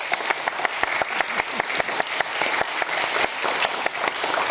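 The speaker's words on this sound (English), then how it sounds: "Give them a big round of applause." Applause from an audience at a wine retrospective vertical tasting event, a steady patter of many hands clapping with sharp individual claps standing out, continuous and fairly close throughout.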